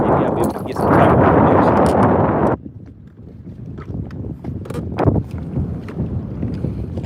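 Wind on Lake Lanier buffets a boat during bass fishing, a loud rushing roar against the microphone that drops off partway through to lighter gusts and scattered knocks.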